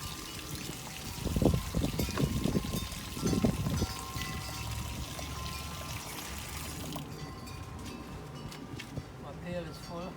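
Water pours steadily into a pail during a routine of hand-washing clothes, a continuous close trickle and splash that fades partway through, with a person talking over the first part.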